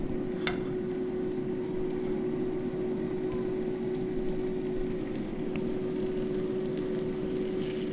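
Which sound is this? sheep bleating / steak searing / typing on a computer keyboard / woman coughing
steak searing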